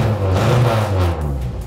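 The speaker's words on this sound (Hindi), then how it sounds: "this is a very loud car और ये गाड़ी जब स्टार्ट होगी" A loud, raw-sounding vintage car engine in Pakistan rumbles close by, revving up and then easing back in a single short burst, with no voices.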